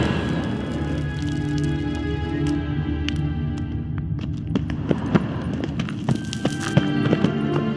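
Steady clip-clop of a horse galloping in The Witcher 3, rapid rhythmic hoofbeats over an ambient musical bed, moderately loud and continuous with no talking.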